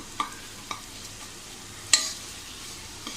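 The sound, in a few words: masala frying in oil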